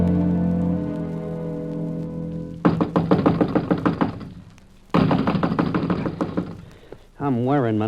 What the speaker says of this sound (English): I'm wearing my knuckles to the bones knocking on this door